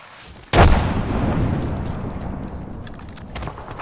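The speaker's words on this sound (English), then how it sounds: "I'm taking fire." Loud gunshot from a video game shooter cracks out near and sharp, followed by a long rumbling echo that slowly fades over several seconds.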